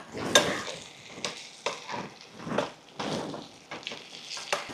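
Eggplant curry with raw mango pieces sizzles in a hot pan while a spoon stirs and scrapes it in repeated strokes, crackling frying under each clear stir, no voices.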